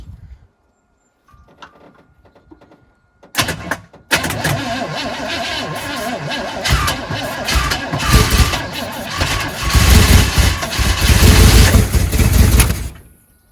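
A 1997 Chevrolet Blazer that sat for decades cranks after a few faint clicks, then its carbureted engine fires and runs roughly, loud and uneven, revving and surging near the end.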